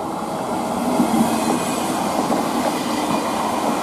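Express train rushing through the station at Kufstein, a steady loud broadband roar of wheels and rail noise with faint clickety-clack, sustained close by throughout with no talking.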